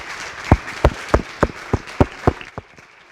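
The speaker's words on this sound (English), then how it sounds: "Give me one big power clap." A crowd at a high school freshman orientation claps together in unison, about nine sharp, evenly spaced claps in a steady beat that echo in a large space, then trail off.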